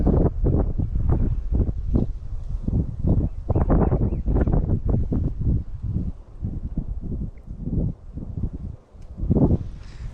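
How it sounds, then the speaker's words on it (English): Wind gusts outdoors beside a lake buffet the microphone in loud, uneven bursts that swell and fade over several seconds. No voices are heard. "the wind's picking up"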